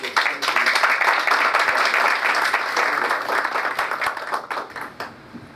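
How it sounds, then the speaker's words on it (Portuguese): Sustained applause from an audience at a construction-industry meeting in Bahia, welcoming a guest speaker; dense, steady clapping that begins full and gradually thins and fades toward the end. "Uma salva de palmas para Ieda."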